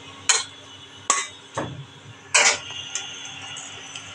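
Chicken meat stirred without oil in a hot kadai on an induction cooker: a handful of sharp, irregular metallic clinks and scrapes of a spatula against the pan, close by, with quiet gaps between.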